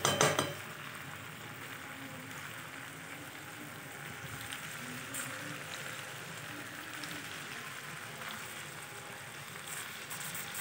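Jackfruit, potatoes and goat fat are stirred in a cooking pan: a faint, steady sizzle with soft scraping and occasional clinks of a utensil against the pan, after a brief louder clatter at the start.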